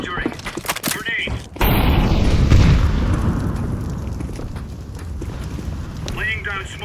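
An incendiary grenade bursts in a video game with a loud, close whoosh and roar that slowly fades into a crackling burn, with short voice callouts just before and after.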